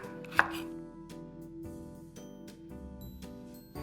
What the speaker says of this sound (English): I'm just gonna chop them into like nice sized pieces